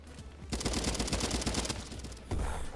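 Sustained rapid automatic gunfire from a first-person shooter video game, a dense crackling burst lasting about two seconds over a low background hum, followed by a brief louder report.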